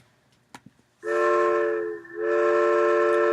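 A deep, low-pitched train whistle played back at half speed sounds in two long blasts after a few faint clicks, with a brief dip in between.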